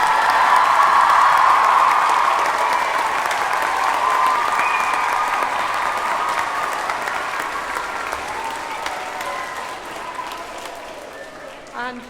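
Audience applause and some cheering for a composer at a children's Big Sing event, a large sustained wash of clapping that starts loud and gradually fades over about twelve seconds, with a voice calling out briefly.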